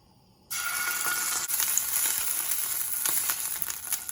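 Ginger garlic paste hits hot olive oil in a pan, a sudden loud sizzle that starts after a brief quiet moment and then holds as a steady, crackling hiss throughout.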